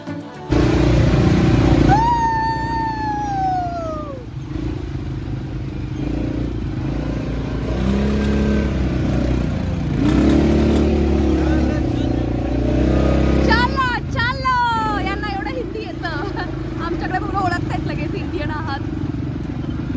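An ATV engine drones steadily while the machine rides a very rough, frightening road, its low rumble continuous throughout with people talking over it.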